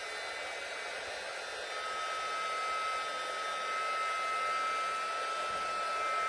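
A heat tool used on embossing powder for a card blows a steady, continuous rushing whir. It stays close and even throughout with no breaks and no voices.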